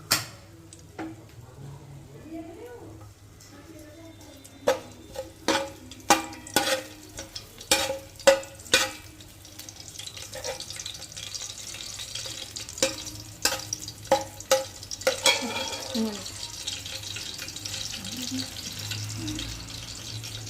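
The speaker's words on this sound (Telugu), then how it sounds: "ఇగో నూనె పెట్టి ఎల్లుల్లిపాయలు వేసేవండి" Onions and green chillies with garlic cooking in oil for chicken biryani, a faint sizzle beneath repeated sharp clinks and scrapes of a spoon stirring in the pan, close and intermittent.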